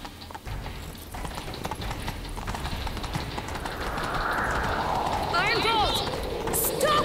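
Horse hooves clip-clop at a run in The Witcher 3, a steady galloping rhythm up close while a voice talks over it and a whinny-like sweep rises near the end.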